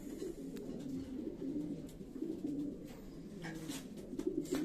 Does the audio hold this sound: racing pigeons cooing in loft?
yes